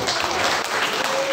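Applause from an audience at a campus general lecture, a short, dense burst of clapping that stays loud for just over a second.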